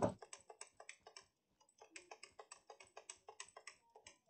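Rapid, uneven clicking of a computer keyboard's shift key during a Bedwars game, close and fairly quiet, in bursts with a brief pause in the middle.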